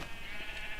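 Sheep bleating in a block-building video game, a soft, steady bleat with a wavering tone running through the whole short moment, fairly quiet and with no talking over it.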